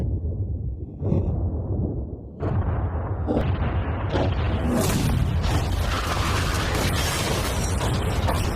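A yacht is blown up with explosives, a loud sustained blast and rumbling roar that builds after a couple of sharp bursts and fills the rest of the clip, with no talking.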